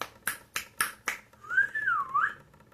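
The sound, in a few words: person whistling and snapping fingers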